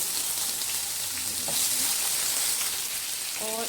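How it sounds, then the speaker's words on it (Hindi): Cut potatoes frying with cumin in a pan give a steady, close hiss of sizzling oil throughout, with a couple of faint clinks near the end and no one talking. "इनको मैं 3 से 4 मिनट तक जीरे के साथ फ्राई करूंगी अच्छी तरह से"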